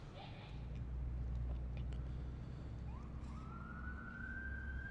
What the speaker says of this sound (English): You can just hear people yelling and sirens in the background.